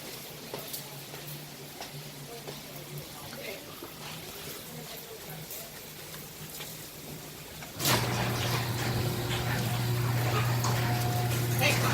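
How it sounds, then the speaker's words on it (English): Heavy December rain pours in Raeford, North Carolina, a continuous broadband hiss that suddenly grows louder and denser partway through, with people talking over it. "to face this torrential pouring of rain."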